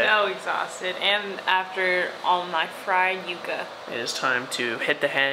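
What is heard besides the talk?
electric fan running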